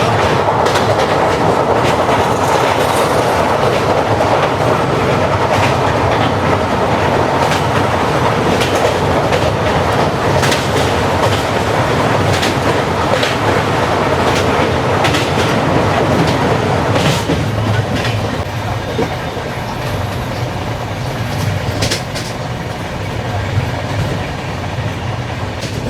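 The Palnadu SF Express, a train with new LHB coaches, crosses the Krishna river with a loud, continuous rumble and rhythmic wheel clatter heard from inside, steady throughout with no voices.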